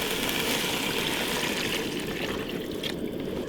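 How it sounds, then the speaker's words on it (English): Water pouring steadily into a pot for pho broth at a cold Utah wilderness campsite, a continuous close rushing trickle with no voices. "Now we're gonna pour in our water."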